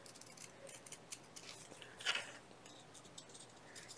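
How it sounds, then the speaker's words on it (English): Quiet snips of scissors cutting a circle out of paper, a string of small crisp clicks with one sharper, louder cut near the middle, close up and alone. "I'm going to cut around this circle as best I can"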